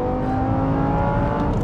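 An Audi R8 Gen 1 accelerates hard and close, with a loud, steady engine note and harmonics that climb gradually, the roar continuing without a break and with no talk over it.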